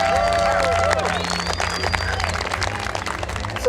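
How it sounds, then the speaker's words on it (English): An event crowd at a bouldering gathering gives a round of applause, with dense clapping and cheering plus babble and a whistle-like tone early on. "let's just give Philip and Kate a round of applause"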